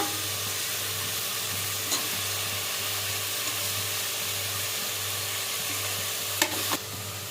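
Chopped tomatoes sizzle in a pan with mint, giving a steady, even frying hiss with a few faint clinks of stirring, close by and with no talking over it.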